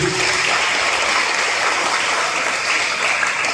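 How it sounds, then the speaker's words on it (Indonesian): An Indonesian audience at a national-awareness briefing breaks into dense, steady applause, loud and continuous crowd clapping that fills the whole stretch with no pause. "Baik, terima kasih, tepuk tangan dulu."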